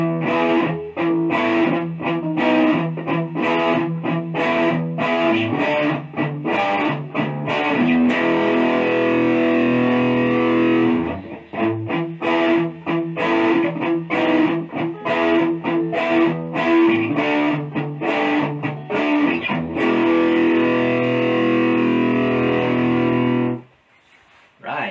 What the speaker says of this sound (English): I'm gonna play it for you with a little bit of distortion